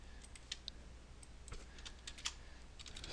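Typing commands on a computer keyboard, faint scattered key clicks at an irregular pace, close and quiet with no voice.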